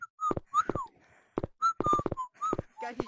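A whistled tune played as a character emote in a video game, with short melodic phrases of clear tonal notes separated by brief pauses, loud and close over roughly three seconds.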